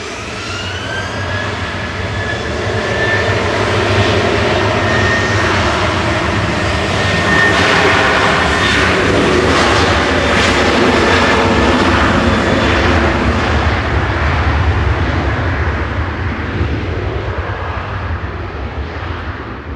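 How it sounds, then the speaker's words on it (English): A 12-year-old jet airliner operated by TAWG departs Manchester Airport for Alicante, its engines building to a loud, steady roar with rising whine that holds throughout, no voices over it. "departing next in front of us to Alicante, flight 2620, operated by TAWG, 12-year-old aircraft"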